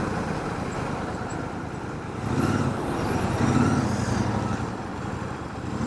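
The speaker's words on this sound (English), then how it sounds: "Exhaust now, baby." A Royal Enfield Super Meteor 650 motorcycle's exhaust rumbles low and steady at idle close by, swelling slightly for a couple of seconds midway before settling back.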